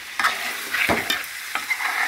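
Radish chicken curry sizzles in hot oil while a spoon scrapes and stirs it in several distinct strokes, close and clear with no talking.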